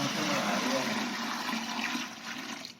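Buckets of water pour into the condenser of a peach brandy still, a steady loud rushing gush that tapers off toward the end, with no talk over it.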